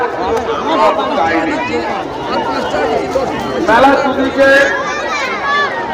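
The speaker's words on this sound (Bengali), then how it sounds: "এত মানুষের ভিড় ভাট্টা মেলা" A dense crowd at a village fair on a hot day fills the air with continuous close chatter and overlapping voices, a lively hubbub with no pause.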